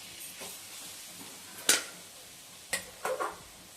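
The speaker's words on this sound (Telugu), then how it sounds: "ఈ అన్నం అంతా పట్టించేలాగా కలిపేసుకోవాలి" Dry cooked rice being mixed with mint paste in a metal pan: soft scraping under a faint hiss, broken by a few sharp spoon-on-pan clinks and taps, close and fairly quiet.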